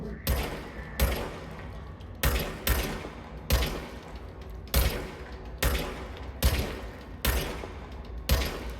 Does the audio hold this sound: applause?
no